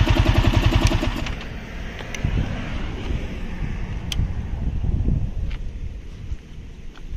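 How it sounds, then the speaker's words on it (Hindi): A modified Yamaha R15M motorcycle with an aftermarket exhaust: a close, loud engine rumble that starts with a pulsing idle and then swells into a throaty roar under heavy wind noise. "बताइए कैसा लग रहा है आप लोगों को साउंड इस बाइक का,"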